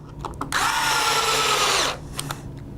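A Hitachi power screwdriver with its torque set at about 15 tightening screws while a battery is replaced, a single steady whirring run of about one and a half seconds with faint clicks before and after.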